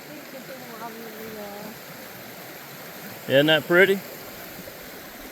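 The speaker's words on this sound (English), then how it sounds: "Pretty stream." A stream flows steadily beside a hiking trail on the Boone Fork Loop, a constant soft rushing wash heard throughout, with people chatting briefly over it.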